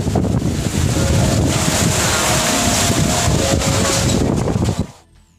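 A strong gale tears at a wedding tent in Sukorejo, Ponorogo, East Java. A loud, continuous roar batters the microphone without a break, then cuts off abruptly near the end.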